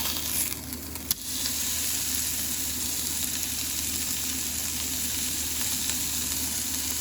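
Meat for a francesinha dropped into a hot, well-worn pan gives a constant close hiss of frying, with a brief knock near the start and no talk.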